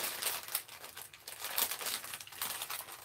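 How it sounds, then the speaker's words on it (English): Plastic packaging crinkles and crackles close up in irregular bursts, quiet and crisp with no talking. "Can you hear me crinkle the packaging?"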